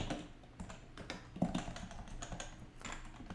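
Code being typed on a computer keyboard while building a first website, a close, fairly quiet run of quick irregular key clicks with no voice.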